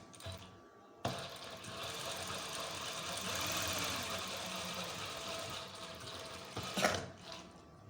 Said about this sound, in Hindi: तो मशीन ऑन कर दिए। अब हमने इसके ऊपर यूं स्टिचिंग करनी है।